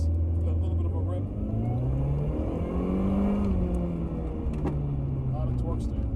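The supercharged engine of a Mini Cooper S R53 pulls hard under acceleration, its pitch sweeping upward through the gears, with someone talking over the drone.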